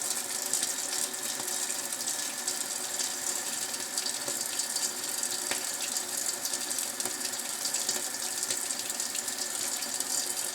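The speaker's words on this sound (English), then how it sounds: "that's why I like to use a toothbrush on them" Steady, dense scrubbing of a toothbrush on an Ibanez Edge tremolo guitar bridge, a close, continuous bristly hiss with faint clicking, with no talking.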